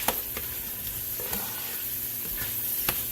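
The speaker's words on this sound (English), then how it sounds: "Mixing up the sausage and the peppers and onions in the bottom." Sausage, peppers and onions stirred in a simmering pot for keto cabbage soup: a continuous sizzle with spoon scrapes and clinks at irregular intervals, close and alone.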